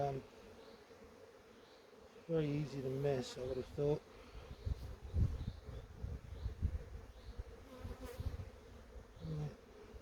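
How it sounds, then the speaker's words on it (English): Honey bees hum in a busy, steady drone close by in an open hive, with a person speaking briefly over it and soft handling rustles of frames. "there's a lot of bees in here now"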